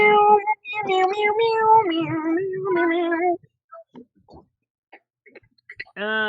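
A person imitates cat meows in a sung, melodic series of drawn-out meows, followed by quiet clicks and one more short meow at the end.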